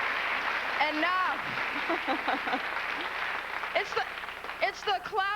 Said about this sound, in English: it's the clapping that throws me off. I can't stand applause.